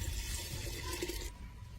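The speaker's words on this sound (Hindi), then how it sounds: "3 से 5 लीटर इसमें पानी आपको मिक्स करना है।" Water gushes and splashes into a clay pot holding about half a kilo of lime, a steady rushing pour that fades out partway through, close and fairly quiet, with no talk.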